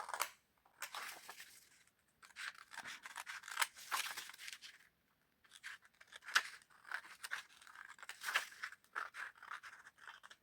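Scissors cutting through a paper journal cover, close crisp snips and slicing swishes in short irregular runs separated by brief pauses, quiet and alone with no talk.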